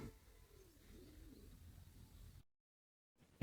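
A pet pigeon gives a soft, low cooing murmur in a quiet indoor setting; the coos are faint and continuous, then cut to silence near the end.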